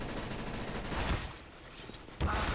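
Rifle fire in the tactical shooter CS:GO: a steady, dense rattle of shots with a heavier burst near the middle and another sharp, loud volley near the end, with no voices.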